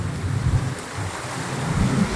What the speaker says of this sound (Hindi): बारिश इतना तेज़ हो रहा है ना, मत पूछिए, पूरा तेज़ बारिश हो रहा है।